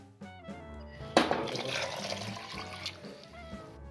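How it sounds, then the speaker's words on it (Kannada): Water poured into a mixer jar to rinse out ground coconut paste for sambar, a close, rushing gush and splash that starts abruptly and runs for a few seconds. "ಆ ಜಾರನ್ನ ತೊಳೆದ್ಬಿಟ್ಟು ಸ್ವಲ್ಪ ನೀರು ಹಾಕ್ತಿದ್ದೀನಿ."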